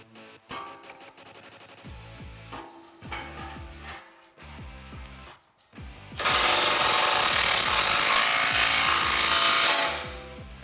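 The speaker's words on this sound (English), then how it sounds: "This clamp has a 15mm nut that we're gonna tighten down." A 15mm nut on the largest exhaust clamp of a Borla ATAK dual side-exit system on a 2014-2018 Silverado or Sierra is tightened in rapid rattling hammer bursts, then one long, loud, sustained burst, close up.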